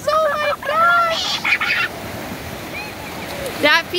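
Atlantic Ocean waves wash onto the shore in a steady broadband hiss, partly covered by excited voices and squeals in the foreground.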